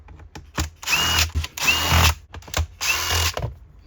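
A power drill or driver backs three screws out of the cover on a Husqvarna chainsaw that won't start, in short whirring bursts separated by pauses, close and fairly loud with no talk.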